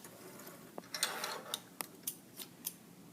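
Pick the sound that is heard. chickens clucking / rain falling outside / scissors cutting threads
scissors cutting threads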